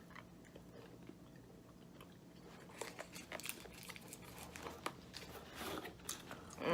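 Close biting and chewing of a vanilla taffy-like candy from a New Zealand snack box, soft repeated crunchy mouth sounds building up over several seconds.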